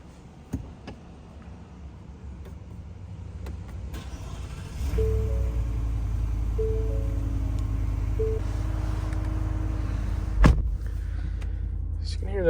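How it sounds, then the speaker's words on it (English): A 2023 Ford F-150 V8 fires up after some quiet clicks and settles into a deep, steady idle rumble close by, with a short sharp knock near the end. "So you can hear that V8 pretty well."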